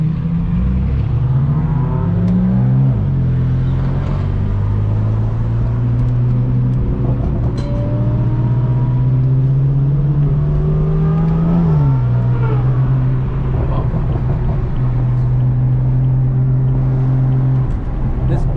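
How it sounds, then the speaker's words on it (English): Ferrari 458 engines drone loudly from inside a moving BMW F82 M4 cabin, a steady engine tone that rises and falls through several rev changes and gear shifts with no speech. "I really want to hear those V12, sorry, V10s"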